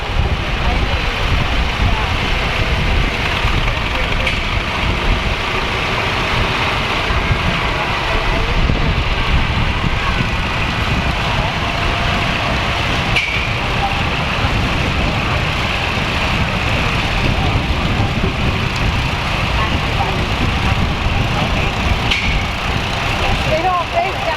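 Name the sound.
Allis Chalmers 917 Hydro tractor engine running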